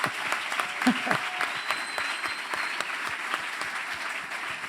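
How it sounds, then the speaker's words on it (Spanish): An audience at a church symposium breaks into strong, sustained applause, dense clapping throughout with a voice briefly heard over it. "Vamos a dar un fuerte aplauso a Jesucristo."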